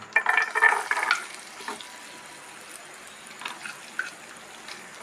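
Garlic frying in coconut oil in a pan, a brief burst of sizzling with light stirring at the start that quickly fades to a faint, quiet background with occasional soft clinks.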